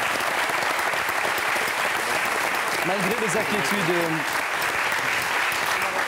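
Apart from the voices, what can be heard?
studio audience applause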